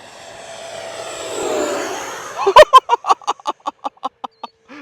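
A giant RC model B-2 Spirit jet makes a flyby, its whooshing engine whine swelling and then fading, followed by a sharp run of evenly spaced, repeated loud clacks.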